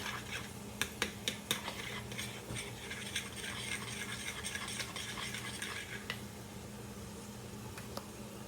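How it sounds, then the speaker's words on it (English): Water chestnuts and green onions are stirred into chicken in a pan, a spoon scraping and clinking against the metal with a few sharp taps early on, then steady soft stirring over a faint sizzle. "I'll add in my watered chestnuts and green onions so they don't get too soft"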